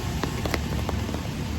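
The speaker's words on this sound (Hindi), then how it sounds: "अभी बारिश हो रहा है।" Rain falling outdoors during a vlog shoot, a steady dense patter with scattered louder drops across the whole stretch, fairly close and with no talking.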